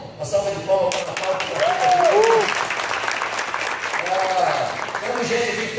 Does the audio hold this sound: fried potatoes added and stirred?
no